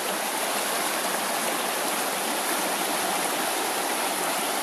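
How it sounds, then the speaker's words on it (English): A mountain stream rushes at a water crossing on the Georgia section of the Appalachian Trail, a steady, dense, hissing roar close by with no pauses. "a little hazardous water crossing"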